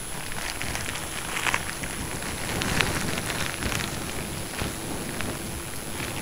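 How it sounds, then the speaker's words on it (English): Steady rain falls outdoors during a rain test, a dense hiss of drops hitting surfaces nearby, with occasional louder splatters. "next time you're gonna do a rain test, get rain gear"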